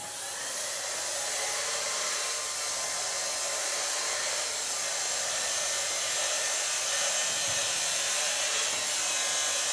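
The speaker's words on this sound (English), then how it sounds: "blow dry with a large brush. Blow dry I use is from Alcina Cosmetics." An Alcina Cosmetics hair dryer blows hair dry with a large brush during a fringe cut, giving a loud, constant, close airy whoosh that holds steady throughout.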